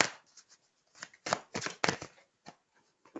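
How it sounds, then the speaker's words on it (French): Tarot cards handled and shuffled close up in a few quick bursts of papery rustling and flicking, separated by short silent gaps. "je vais prendre une dernière carte du tarot"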